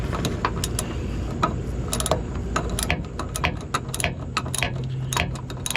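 A ratchet wrench works on a car part, giving a steady run of quick metallic clicks close by over a low background hum, with no speech.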